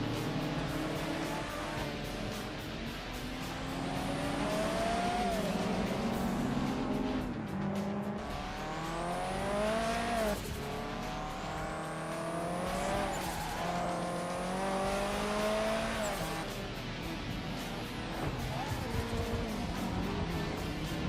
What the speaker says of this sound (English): I'm also driving another great car here, which is the MR2 Mark II Turbo, over 250 brake horsepower